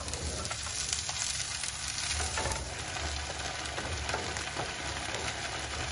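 Chickpeas sizzling and frying in a pan with wilted shallot, a steady close crackling hiss with small pops that continues without pause.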